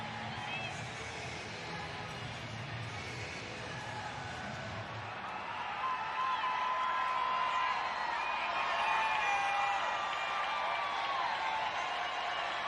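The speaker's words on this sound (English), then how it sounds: "Angels crowd getting louder." Crowd noise at an Angels baseball game against the Pirates swells into louder, sustained cheering over the second half, a broad roar with whistles and shouts under running commentary.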